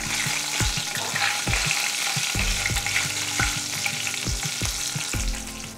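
Asafoetida dropped into hot oil with curry leaves for tomato pickle, a steady close sizzle and fry broken by regular scraping stirs of a spoon against the pan.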